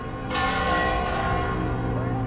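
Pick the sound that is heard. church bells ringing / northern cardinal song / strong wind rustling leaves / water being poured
church bells ringing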